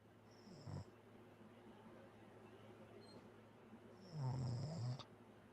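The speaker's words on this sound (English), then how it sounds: "Oh, he's snoring." A person snores softly indoors during a console gaming session, two drawn-out snores separated by a quiet gap with a faint background hum.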